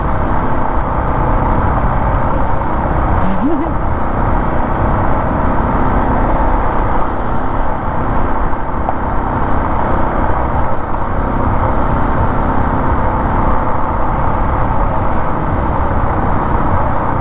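Steady road traffic rumbles along a mountain road in Romania, a continuous broadband wash of passing cars and heavier vehicles, fairly loud and close, with no talk over it.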